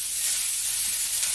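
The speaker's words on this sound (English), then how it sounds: "if you've got it really, really hot, it will sear the onions and the peppers" Onions and peppers sear in a very hot pan for paella, a steady broadband sizzle and hiss that runs unbroken and fairly loud, with no voices.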